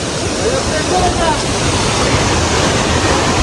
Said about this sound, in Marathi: असं थोडस मित्रांनो जंगल पार केल्यानंतर हा लागतो सुंदर असा धबधबा.